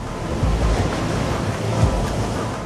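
Ocean waves crash and rush in a loud, continuous roar, with wind buffeting the microphone.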